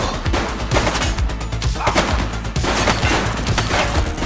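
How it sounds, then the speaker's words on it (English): Rapid, dense gunfire from The Precinct video game, with loud shots crowding together in a continuous barrage for about four seconds. "She's shooting!"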